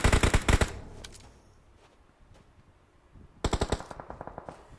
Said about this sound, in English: Chucky over here taking some more shots onto CMF Esports